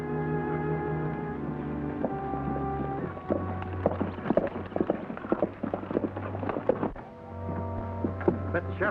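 Horses' hooves clip-clop at a steady walking rhythm over a low steady hum, with occasional knocks and clatter as riders mount up in a Western setting.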